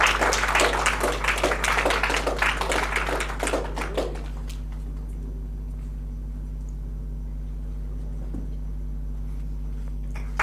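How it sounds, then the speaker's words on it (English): Audience applause for Anis Patel at a Social Impact Goa 2025 community event, dense clapping for about four seconds that then stops, leaving a steady low hum in a quiet hall. "Huge round of applause for Anis Patel."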